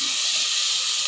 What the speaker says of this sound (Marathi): इथे कांदा छान ब्राऊन होईस्तोपर्यंत परतून घ्यायचा।